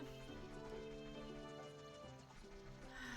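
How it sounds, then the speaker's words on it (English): Horse hooves clip-clopping in The Legend of Zelda: Ocarina of Time / Majora's Mask combined randomizer, a steady galloping rhythm mixed into the game's layered music, with no speech over it. "I hear the horse. I don't see the horse."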